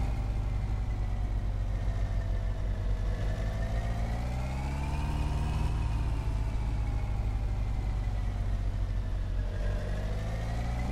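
A car engine in My Summer Car, an old car taken from the cabin owner and restored, idles steadily and then pulls away across a backyard, its low mid-range drone rising and falling in pitch as it revs and drives on without pause.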